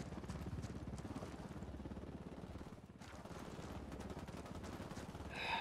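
Rapid bursts of automatic gunfire in the video game Ghost Recon Wildlands, a steady rattling barrage that runs nearly unbroken across the whole stretch, briefly dipping midway before resuming just as loud.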